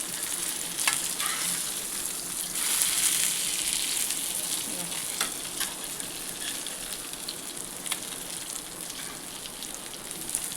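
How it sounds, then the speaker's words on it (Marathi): Black fish frying in a pan over a medium gas flame, a steady close crackling sizzle that holds for the whole stretch with small pops and spits. "मीडियम गॅसवर मासे फ्राय करून घ्यायचे आहेत."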